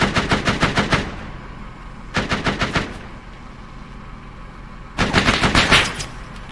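Automatic gunfire in the Arma 3 military game, three separate rapid bursts about a second long, loud and close, with quiet gaps between them and no talk.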